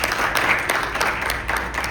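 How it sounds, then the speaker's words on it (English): Town hall audience applauding Senator Kristen Arrington, a steady wash of clapping from many hands at moderate loudness with no voices over it. "Give a round of applause for Senator Kristen Arrington."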